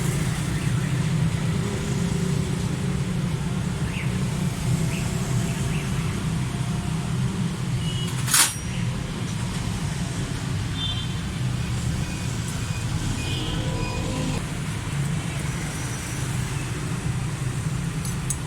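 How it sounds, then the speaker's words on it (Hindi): 2013 Suzuki Cultus EFI engine idling with loose tappets, a steady, loud low drone with continuous ticking texture and one sharp click midway, no voices. "इसी गाड़ी के टैबडों की बहुत ज़्यादा आवाज़ है, साउंड है बहुत ज़्यादा ख़राब"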